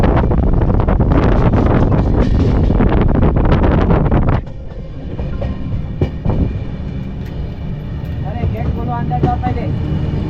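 The Coimbatore–Mumbai LTT Express 11014 rolls along, with a loud, rushing roar of wheels and wind for about four seconds, then a quieter, steady rumble and rattle for the rest of the clip.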